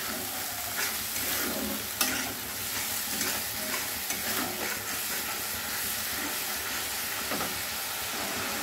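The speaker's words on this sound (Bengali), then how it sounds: "টমেটো পেস্ট একটু নাড়িয়ে নেব যতক্ষণ কাঁচা গন্ধ না যায়" Tomato paste fries loudly in a pan while being stirred for an aloo potol korma, a dense continuous sizzle and hiss with scraping strokes and a sharper knock early on.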